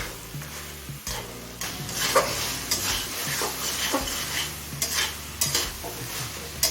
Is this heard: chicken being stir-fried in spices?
yes